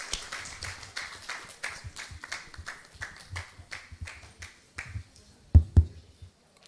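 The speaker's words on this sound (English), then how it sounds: "Please do clap for Mahmoud as he comes through" A small audience claps in a sparse, uneven rhythm at a Mombasa film policy public participation event, the individual claps fairly close and fading out, with a couple of louder thumps near the end.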